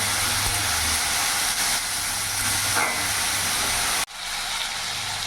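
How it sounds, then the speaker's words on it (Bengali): Chopped vegetables hit hot oil after a five-spice (panch phoron) tempering for a spinach ghonto, making a dense, steady close hiss of frying that drops out briefly near the end before resuming. "এবার আমি কিছুক্ষণ ভাজা ভাজা করব।"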